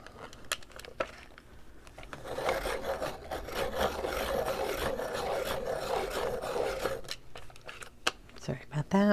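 A colored pencil being sharpened, a soft continuous scraping rasp lasting several seconds, with faint clicks and handling taps before and after.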